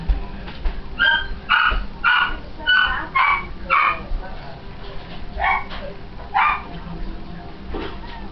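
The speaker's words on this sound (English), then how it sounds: "how can I talk with pig barking up a storm?" Dog barking in the SpongeBob Truth or Square video game: a series of repeated high yips and barks in uneven bursts, loud and close, with some whimpering tones among them.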